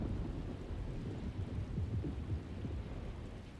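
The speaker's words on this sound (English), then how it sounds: "Looks like a storm's coming." Thunderstorm in Alone in the Dark (2024), with a steady wash of heavy rain and low rolling thunder rumbling throughout, dense and continuous with no voices.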